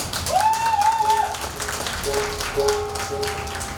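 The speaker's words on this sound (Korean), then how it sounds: "박수 한번 주세요." Audience applause at a street performance during the Bonghwa sweetfish festival, moderate steady clapping with a wavering tone or whistle sliding over it, mid-distance.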